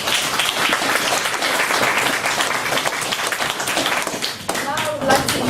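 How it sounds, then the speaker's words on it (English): Dense, sustained applause from the audience at an intimate classical concert salon, loud and close with many hands clapping steadily before it thins out, while voices chatter over the tail end. "Give them a round of applause."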